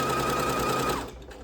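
A sewing machine stitches a fabric hair scrunchie, a rapid, loud mechanical whirring chatter running for about a second before stopping abruptly.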